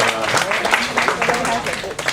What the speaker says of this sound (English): Give my staff a big round of applause.